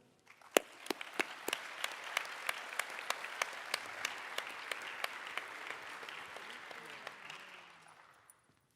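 Audience applause at an honors and awards ceremony, a room of many hands clapping steadily, with a few loud nearby claps cutting through before the ovation fades out near the end.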